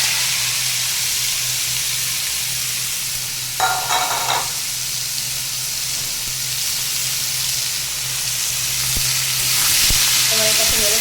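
Pumpkin pieces coated in salt and turmeric drop into hot oil for a vegetarian vegetable dish, setting off a steady, close sizzle and frying hiss that carries on throughout, with a brief louder burst near the start.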